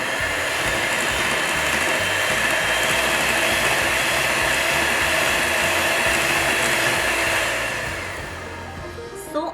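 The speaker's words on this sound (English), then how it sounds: "Let's whisk it once again." Steady mechanical whir of an electric mixer or whisk beating molasses into gingerbread cookie batter, loud and continuous before easing off toward the end with a small clatter.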